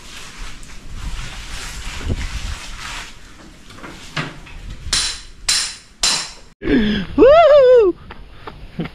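Sharp hammer blows strike a chisel carving the edge of a piece of wood, several separate knocks spaced out among softer rustling, followed by a brief whooping voice near the end.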